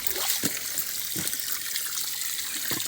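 Tap water runs into a container as it is collected on a farm, a steady close trickle and splash with a few soft knocks and bumps.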